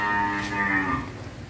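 Cattle on a Vietnamese cow farm, one loud, close, drawn-out moo that rises and then sinks over about a second, with farm background noise and no talking.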